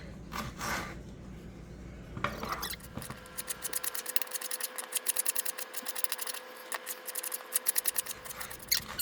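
Scissors snipping ingredients finely for a Mexican dish with canned tuna, a close, rapid run of crisp cuts in steady rhythm after a few slower opening snips.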